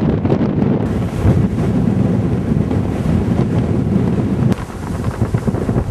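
Strong 31 mph wind buffets the microphone outdoors on a mild 66-degree day during a long roadside walk, a loud continuous roar with gusty swells throughout and no voices.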